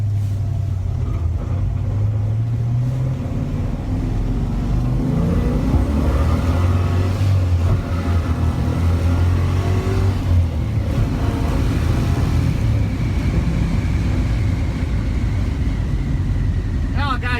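A car fitted with a Holley carburetor and a rattling exhaust accelerates through the gears on the road; a loud, continuous engine rumble climbs in pitch and drops back at each shift, with steady road noise underneath.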